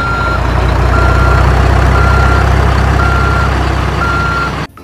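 A toy truck's reversing alarm beeps in a steady repeating pattern, loud and close over a constant droning hum, with no talking, then cuts off abruptly at the end.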